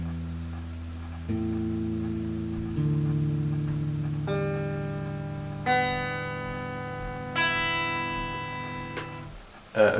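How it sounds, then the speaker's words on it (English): Guitar open strings plucked one at a time, each note ringing out and sustaining in a slow sequence from low to high, with a final brief chord-like pluck. "One of the most important parts is the strings of the guitar, and they sound a bit like this."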